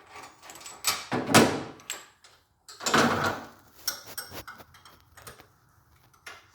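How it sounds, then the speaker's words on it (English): Size 19 wrench loosening the clamped fixtures on a Comec RP 900 milling machine: metallic clicks, clanks and scraping knocks in irregular bursts, close by, with short pauses. "We got a size 19 wrench that we use to loosen up the fixtures here"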